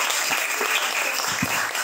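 Audience applause for Simone Paulino, editor of the year, at a literary event, steady close clapping throughout with a few sharper claps standing out.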